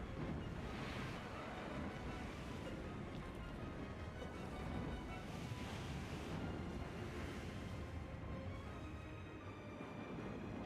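Wind in the video game Shadow of the Colossus rushes steadily in broad, surging gusts, loud and close throughout with no pauses and no voices.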